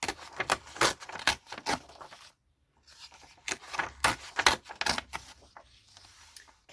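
Pages torn out of a book being altered into a craft project: repeated sharp ripping bursts, close and fairly loud, with a brief pause midway before several more tears.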